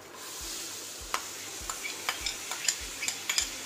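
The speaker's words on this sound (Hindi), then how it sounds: "अब इसी समय मैं इसमें डाल देती हूँ ये दाल" Soft lentils dropped into hot oil and stirred in a pan while making kachori, a quiet close sizzle under a quick run of spoon scrapes and clinks against the metal.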